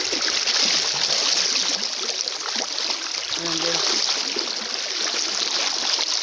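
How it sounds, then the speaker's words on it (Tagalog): Water flows steadily through a drainage tunnel as people wade along it, a constant broad rush filling the whole span with a brief voice partway through. "tubig yung dinadaanan namin"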